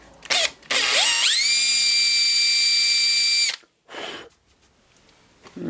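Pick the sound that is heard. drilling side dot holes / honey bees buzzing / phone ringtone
drilling side dot holes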